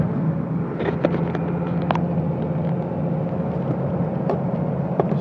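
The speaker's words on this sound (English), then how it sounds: "We're in sixth gear, and we're cruising down the road, right down the highway." A one-owner 6-speed Cummins 24V diesel truck cruises down the highway in sixth gear, giving a steady low engine rumble and road drone from inside the cab, with a few light rattles and clicks scattered throughout.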